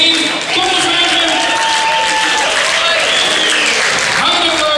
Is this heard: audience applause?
yes